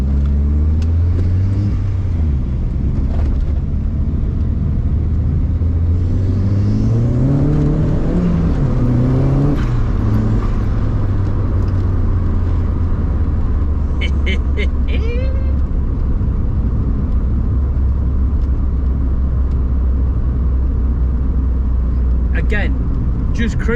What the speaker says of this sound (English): just cruising now and putting your foot down and just driving it, it feels completely different and more drivable